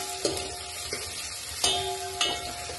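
Five or six dried red chillies fry in hot oil for sambar, a steady close sizzle broken by a few sharp crackles and stirring clatters.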